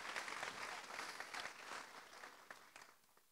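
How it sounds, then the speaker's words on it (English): A small crowd at a memorial event gives a brief, soft round of clapping that thins out into scattered claps within a few seconds. "Little round of applause."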